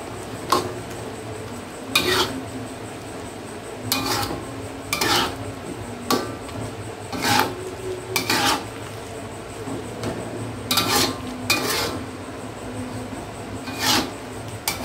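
A utensil stirs spices into food in a pan, scraping and clinking against the metal in irregular strokes about every second or two, close and clear over a faint steady hum.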